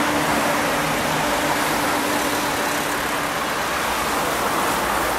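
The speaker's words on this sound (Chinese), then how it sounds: "这边的摩托声太讨厌了。" Engine noise from street traffic in Warsaw, including motorcycles, forms a continuous, loud, broadband roar with a steady low hum and no distinct passes.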